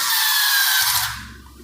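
A BLACK+DECKER cordless screwdriver drives a screw into wood with a close, fairly loud motor whine that holds for about a second and then winds down as the screw seats.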